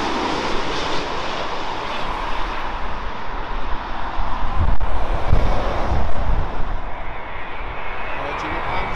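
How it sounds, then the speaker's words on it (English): A Virgin Atlantic Boeing 787 Dreamliner airliner passes overhead with a broad, continuous engine roar that swells toward the middle and then eases off, mixed with wind buffeting on the microphone. "Virgin Atlantic, Dreamliner 787 from San Francisco."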